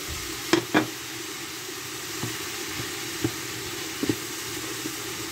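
Cubed onions frying in a pan over a steady low sizzle, with a few sharp scraping knocks of stirring near the start and softer taps later.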